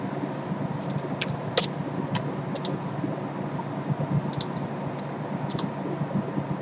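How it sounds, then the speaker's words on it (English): A computer mouse clicks repeatedly at an irregular pace while playing a PC-98 game, with sharp, close, isolated clicks over a steady low background hum. "I'm not too sure why I was clicking there"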